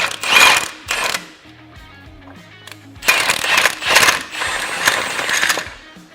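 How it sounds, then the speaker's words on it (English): An impact wrench tightens a bolt on a Polaris RZR XP Turbo transmission, loud rattling hammering bursts in several close pulses separated by short quieter gaps. "We'll grab our socket and our impact. We'll just go ahead and tighten it up."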